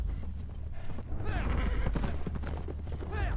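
Horse hooves clip-clop steadily as a princess is escorted on horseback, heard under a continuous narrating voice with a brief whinny-like sound and background rumble.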